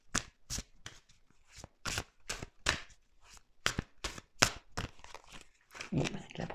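Tarot cards shuffled and drawn by hand, a series of crisp riffling and sliding swipes in irregular bursts, close and quiet, with brief pauses between strokes.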